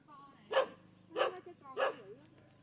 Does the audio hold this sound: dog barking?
yes